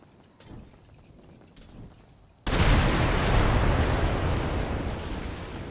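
Gunfire in GTA 5 roleplay: after a couple of quiet seconds with faint thumps, a loud burst of shooting erupts abruptly and continues as a dense, ongoing clatter of shots.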